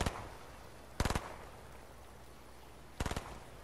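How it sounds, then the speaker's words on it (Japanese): Gunfire in the Fortnite video game comes in three short, sharp bursts of rapid shots spaced about a second or two apart, moderately quiet against a low background hum. "撃たれてますよ。"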